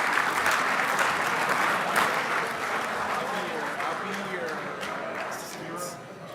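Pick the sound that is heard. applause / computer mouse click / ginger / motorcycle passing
applause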